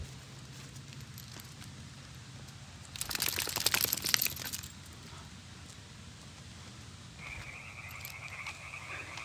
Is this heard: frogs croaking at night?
yes